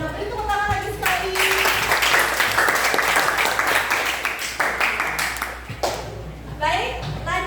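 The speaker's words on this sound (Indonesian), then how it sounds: "Beri tepuk tangan lagi sekali." Students in a classroom applaud group 1 with a burst of hand clapping that swells and then fades, while voices talk and call out over the clapping.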